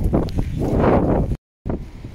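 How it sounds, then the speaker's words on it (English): Strong wind outdoors buffets the microphone in rough, roaring gusts, cutting out for a brief moment of silence before gusting again. "But it's too bloody windy out here."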